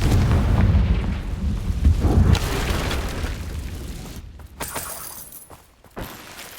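The Confringo fire spell in Hogwarts Legacy bursts with a loud, close explosion and crackling impact, its rumbling boom decaying over several seconds into scattered debris-like crackles and pops.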